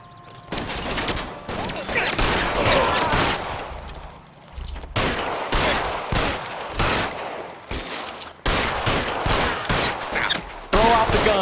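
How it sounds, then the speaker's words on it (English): Gunfire in the L.A. Noire video game during a shootout with security men, loud close bursts of rapid shots in several volleys with brief gaps, over a steady rumbling game background with occasional voices. "Fire a warning round."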